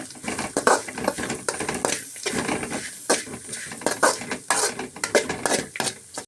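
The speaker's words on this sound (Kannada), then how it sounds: "ಸೇರಿಸಿ ಒಮ್ಮೆ ಚೆನ್ನಾಗಿ ಮಿಕ್ಸ್ ಮಾಡ್ಕೊಳ್ತಾನೆ" A spoon stirs carrot and dill rice with chili powder and salt in a pan, making repeated irregular scrapes and clatters against the metal, close and fairly loud, with a faint sizzle underneath.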